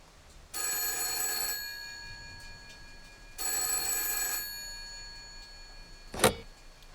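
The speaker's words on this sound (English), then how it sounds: "the phone rings." A telephone rings twice, each trill lasting about a second with a pause between, followed by a short clunk as the receiver is picked up.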